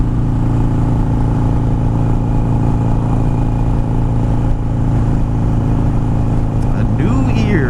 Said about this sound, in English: You can hear the bike better and everything else.